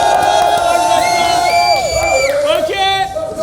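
A crowd at a rap battle event cheers and whoops loudly, voices shouting and rising over a steady musical drone, with bursts of excited yelling throughout.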